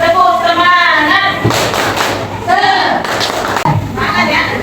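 A class of schoolchildren does a rhythmic spirit clap, their loud chanting voices punctuated by a few sharp, unison claps and thumps close by.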